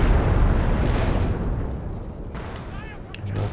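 Rocket barrage explosions from Walking Stuka launchers in a Company of Heroes 2 4v4 battle on the Meatgrinder map, a dense rumbling of overlapping blasts with game noise under a commentator's voice throughout.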